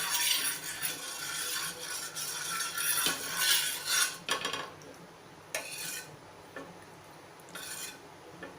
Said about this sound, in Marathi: हे बघा, तव्याला तेल लावून घ्यायचं आहे थोडंसं.